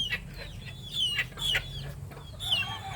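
Chickens cluck close by, several short calls and a few rising squawks over low background noise.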